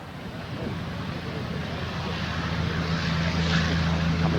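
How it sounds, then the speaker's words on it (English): A Curtiss P-40 warbird's propeller engine drones steadily on its takeoff roll at a July 2008 airshow in Geneseo, New York, a continuous low rumble that slowly grows louder without breaks. "our first P-40 ready to go."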